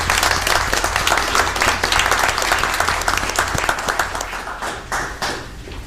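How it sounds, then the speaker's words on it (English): An audience at a city commission meeting claps in a dense, steady burst of applause that fades slightly toward the end. "Let's give both of them a round of applause."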